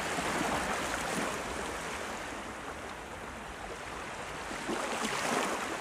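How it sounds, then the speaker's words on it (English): Ocean waves rolling in a continuous loud hiss and wash, swelling slightly at the start and end, with no voices. "Listen to the soothing sound of the ocean."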